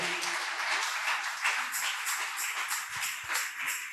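A church congregation at a French-language service led by a woman pastor breaks into sustained, dense applause, steady and fairly loud throughout with a few scattered low thumps.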